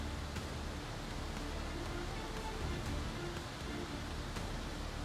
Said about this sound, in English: Grand Falls, also known as the Chocolate Falls in Arizona, is roaring fiercely with muddy water cascading down from the majestic cliffs.